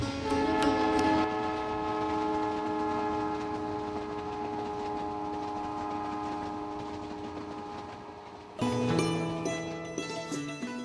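The Palace on Wheels train rolls along in Rajasthan with a steady mechanical hum and rattle, then a louder surge of clatter and tone near the end, no voices.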